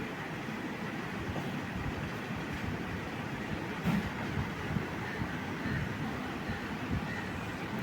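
The Madurai–Punalur passenger train rolls through a small village station in Kerala, a continuous loud rumble with rhythmic wheel clatter over the rails, close by and sustained throughout.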